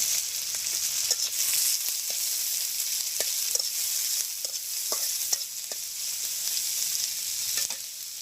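Onion and chili frying in oil in a village kitchen, a steady bright sizzle close by, punctuated by scattered light pops and spatula taps.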